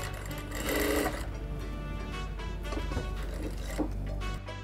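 Sewing machine stitching a pocket onto a blouse, a steady close mechanical whir running almost unbroken, briefly louder near the start and cutting off just before the end.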